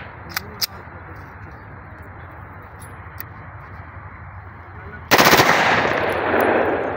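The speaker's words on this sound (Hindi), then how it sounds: "अब करते हैं दूसरे मैगजीन से जो है ना ब्रस्ट फायर" A Zigana Sports 9mm pistol fires a burst outdoors, a loud dense rattle of rapid shots after a few single sharp cracks earlier, with the burst's echo trailing off.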